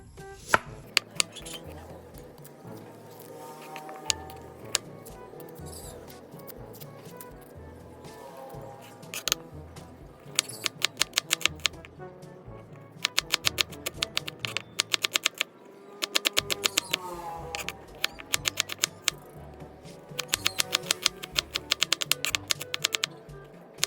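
A knife chops an onion on a cutting board in a home kitchen. Sharp taps come sporadically at first, then in quick, rhythmic bursts that grow denser, close and clear.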